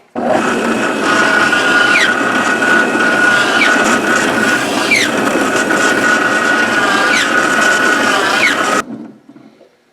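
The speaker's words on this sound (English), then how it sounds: "So we'll just drill the rest of these out." A power drill whines steadily and loudly for about nine seconds while drilling holes in a DIY solder tip stand, its pitch sagging and recovering as it bites into material, then cuts off abruptly.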